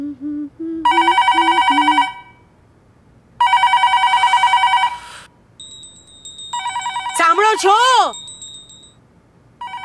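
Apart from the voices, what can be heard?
telephone ringing at home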